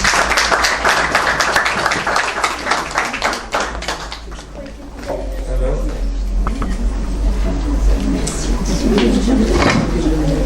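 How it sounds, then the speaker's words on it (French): Clapping from a small group at a French-language tribute ceremony, with distinct individual claps and a low rumble alongside, while people talk over it. "On applaudit."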